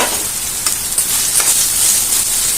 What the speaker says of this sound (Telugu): తర్వాత దీంట్లో కొంచెం ఇంగువ వేసుకుందాము